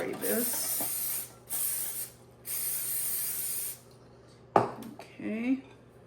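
Several bursts of aerosol cooking spray hissing close by onto a baking pan, separated by short pauses, then clattering of the pan and brief talking.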